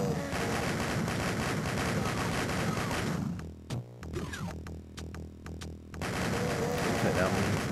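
Gunfire from the GBA version of Doom 2 in the Industrial Zone level, heard as dense, continuous, loud shots from a chain gun. The shooting breaks off briefly in the middle for a few sharp isolated shots, then resumes.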